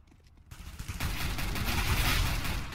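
P90 submachine gun fire in Counter-Strike on the Cobblestone map, a brief quiet moment giving way to a loud, sustained burst of rapid overlapping shots that continues to the end.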